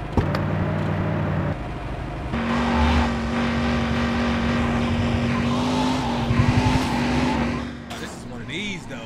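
Car engine from GTA Chinatown Wars driving steadily with a droning hum and occasional tire squeal, loud and continuous across the stretch, mixed with game sounds.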